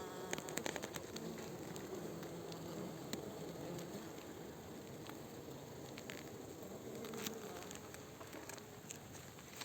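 A colony of bees arrives, their steady swarm buzz filling the air throughout, fairly faint and continuous, with scattered small taps and clicks and no talking.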